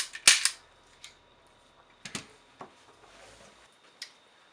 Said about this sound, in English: Do a couple function check shots.